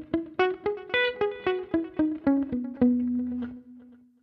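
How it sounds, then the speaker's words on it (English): Electric guitar played through a Fractal unit with delay running in parallel: a run of about a dozen clean plucked notes stepping in pitch, ending on a sustained note that rings out with faint echoing repeats. "now we are looking at the delay running in parallel"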